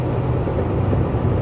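A heavy truck engine in the American Truck Simulator game drones loud and steady with the cab windows up, a dense low rumble that fills the whole stretch without any talking.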